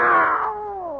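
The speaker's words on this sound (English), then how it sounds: "It's a cat, Miss Brooks." A cat in an old radio drama gives a single drawn-out meow that falls in pitch and fades, heard close and clear with no talking.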